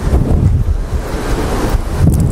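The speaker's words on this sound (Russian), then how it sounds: "Снова ветрюганище." Strong winter wind sweeps a beach at Katsiveli, roaring steadily and buffeting the microphone close up, with surf washing beneath it for the whole stretch and no one speaking.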